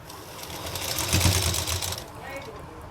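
A sewing machine stitches salwar fabric in a round seam: a short, close, continuous whir that swells midway and then eases off.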